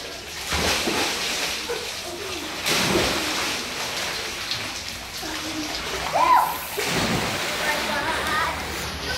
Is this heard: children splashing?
yes